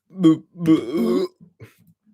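Two loud, voiced burps sound up close, the second drawn out and croaky, followed by a few faint throaty sounds.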